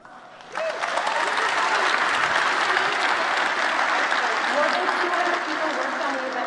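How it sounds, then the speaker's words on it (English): Keynote audience bursts into applause, a dense sustained wash of many hands clapping that starts abruptly and holds steady at moderate loudness, with a voice faintly speaking underneath. "Let's give these folks a big round of applause."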